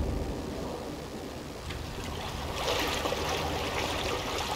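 Flowing, splashing water fills the scene in the video game Inside, a steady rushing wash that swells slightly louder toward the end, with no talk over it.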